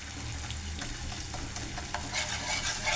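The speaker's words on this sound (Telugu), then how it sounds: "అల్లం గండ్రాల వేగిపోయింది బాగా" Ginger pieces fry in a pan with a soft, steady sizzle and light stirring scrapes, a brighter hiss swelling toward the end, close by and without speech.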